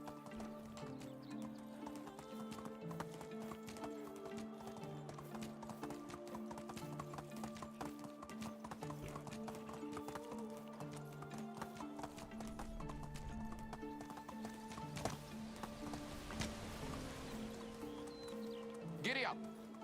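Horse hooves clip-clop in a galloping rhythm in the Medieval Dynasty video game, a steady repeating beat with a whinny near the end, while a person talks over the game sound.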